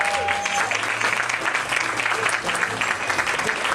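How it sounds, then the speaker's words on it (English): An audience at a live bonus show applauds in a dense, steady wash of clapping that holds for the whole stretch with no talk over it. "can you give yourself another round of applause?"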